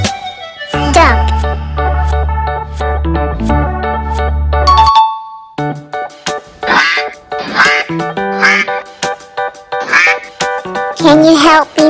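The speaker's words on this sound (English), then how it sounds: "Duck." Cartoonish duck quacks in a farm-animal children's song, several nasal quacks in a bouncy rhythm following a held synthesized musical tone, loud and close.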